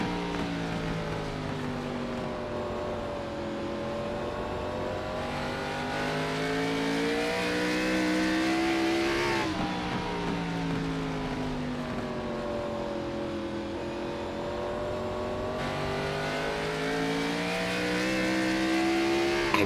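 Onboard a race car during a lap in the Integrity Ignite Series Throwback 150, the engine roars loud and close, rising and falling in pitch through gear changes and corners with steady revving throughout.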